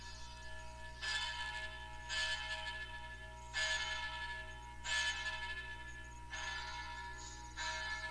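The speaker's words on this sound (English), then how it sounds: "The church bells are playing." Church bells ring in several spaced peals, a few seconds apart, faint and distant over a low steady hum, with no talk.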